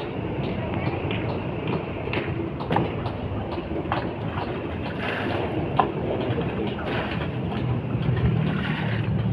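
A boat engine running on water thick with water lilies, a steady close mechanical chugging with splashing and wind noise over it, heard continuously.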